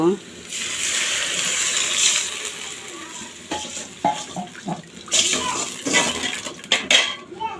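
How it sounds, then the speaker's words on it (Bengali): Hissing and spluttering as water hits cumin paste in a hot pan, a burst of steam followed by bubbling and scattered clinks of a utensil. "পেস্টটা যেন পুড়ে না যায় তার জন্য আমি একটু পানি দিব"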